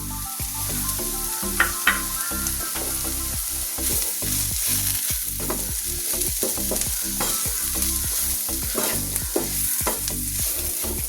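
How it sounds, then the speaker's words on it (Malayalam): A curry with sambar powder is stirred in a pan for an Onam feast, with quick rhythmic spatula scrapes over a constant close sizzle, loud and with no talking. "ഇനി ഇത് നന്നായിട്ടൊന്ന് മിക്സ് ചെയ്യാം"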